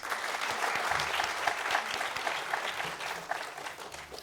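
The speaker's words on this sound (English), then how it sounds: "Please give them a huge round of applause." An audience at a design school launch event breaks into sustained, dense applause that holds steady throughout, with no talking over it.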